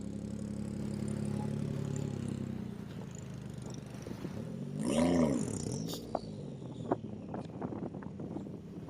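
A rally car launches off the start line of a desert rally stage in Abu Dhabi, its engine roaring up and swelling loudly mid-clip before fading away, followed by scattered clatter and distant engine noise.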